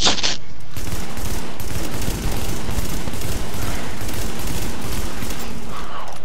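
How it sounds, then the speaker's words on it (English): Sustained loud gunfire in Tom Clancy's The Division during a subway morgue mission, several guns firing at once in dense overlapping automatic bursts that barely let up. "Four guns shooting at him and his health just disintegrated."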